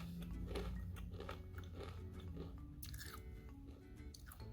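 Someone chews RW Garcia sweet potato crackers close up, a run of soft, repeated crunches and bites, fairly quiet and with no talking.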